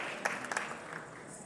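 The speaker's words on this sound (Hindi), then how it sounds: "तो जोरदार तालियों के साथ आइए मंच पर बुलाते हैं" An audience at a stage program applauds as a performer is welcomed, a faint, steady wash of clapping heard from a distance.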